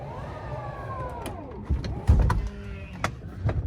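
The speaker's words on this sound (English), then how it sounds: "I'm gonna go ahead and close the Falcon Wing doors just because it's cool" Falcon Wing doors on a Tesla Model X close inside a garage: an electric motor whine glides downward, then a few soft clunks and thumps as the doors seal, fairly close and quiet.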